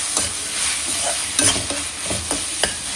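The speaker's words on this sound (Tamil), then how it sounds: "இப்போ தக்காளி வதங்குது இல்லையா" Tomatoes sautéing in a pan for crab rasam, with a steady sizzle of frying and a few louder stirring scrapes and clacks spread through the clip.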